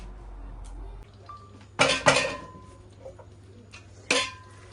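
Meat being lifted out of a pot for Eid biryani, with a few sharp metallic clanks of a utensil against the pot, close and fairly quiet, over low background room noise.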